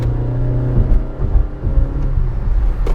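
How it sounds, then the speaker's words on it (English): A Honda BR-V engine paired with a CVT accelerates, giving a steady, loud, droning whine with a groaning rumble underneath, heard up close and continuous without any gear changes. "It's mated to a CVT, which we know what that's like. It is whiny, it is groany, it is a bit irritating"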